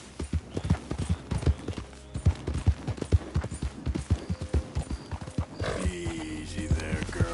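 A horse in Red Dead Redemption 2 gallops with steady, close, rhythmic hoof clip-clops, then ends with a brief snort or whinny near the finish.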